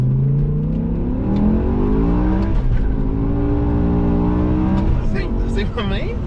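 A BMW M6 with its V10 engine accelerates hard from a standing start, the engine note climbing loud and close with its wheels spinning, while a voice is heard over it.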